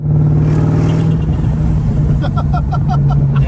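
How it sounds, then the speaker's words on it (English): Chevrolet Corvette engine running and accelerating on a drive, a steady loud low rumble throughout with a rising tone near the end, no talk. "I'm now gonna take my dad on his first ride in the Corvette"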